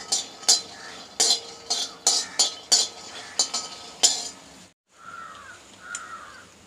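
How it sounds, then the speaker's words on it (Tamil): Raw peanuts dry-roasting in a pan, stirred with a utensil that scrapes and clinks in a quick regular rhythm, close and fairly loud, while crows caw outside. "நீங்கள் வந்து பச்சை வேர்க்கடலையே எடுத்து அதை ட்ரை ரோஸ்ட் பண்ணிக்கோங்க"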